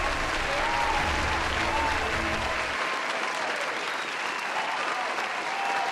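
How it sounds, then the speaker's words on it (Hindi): Applause from the audience at the Swadesh Conclave 2024 award ceremony, a steady dense wash of clapping that carries loud and even through the whole stretch, with a low hum cutting out partway. "भाई तालियां।"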